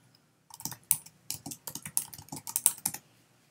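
Quick typing on a computer keyboard, close and crisp, with irregular bursts of key clicks following a brief silence, and no voices.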